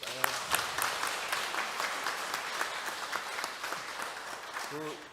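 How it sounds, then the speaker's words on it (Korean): A church congregation claps for two singers at a Sunday worship service, a steady wash of applause lasting several seconds with a voice speaking over it near the end. "우리 박수를 한 번 더 고맙다고."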